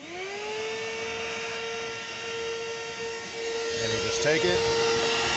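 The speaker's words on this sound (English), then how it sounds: "I have a mini auto detailing shop vac. It's an Armor All brand 2 horsepower" Armor All 2 horsepower mini shop vac run as a blower, hose in the exhaust port, cleaning a 392 Hemi engine bay: a steady, loud whining motor drone with a high tonal hum, rising airy hiss near the end, brief talk over it.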